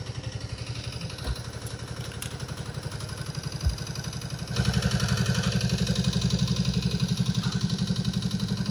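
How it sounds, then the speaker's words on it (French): A 1920s tractor engine from around the First World War era chugs in a fast, steady clatter close by, idling and then growing louder partway through as it picks up, with no talking over it. "Un tracteur des années 20, je crois, de la Première Guerre mondiale."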